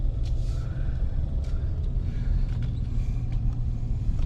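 Vehicles idle and roll slowly in a morning traffic jam at a lakeside campground. A continuous low engine rumble is broken by a few faint brief hisses or squeaks, with no talking.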